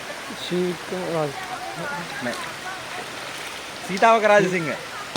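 Rushing water from Wangedi Mol Ella waterfall hisses steadily in the background while a person talks over it throughout.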